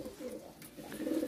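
Çorum naked-neck breeding pigeons coo softly in a low, continuous murmur of overlapping calls, faint and close, with no talking.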